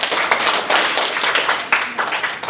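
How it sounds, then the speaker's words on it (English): Audience at an event at Istiqlal clapping, a dense run of many hands with uneven bursts and small peaks, moderately loud and fairly close, with no talking over it. "Give applause to Istiqlal."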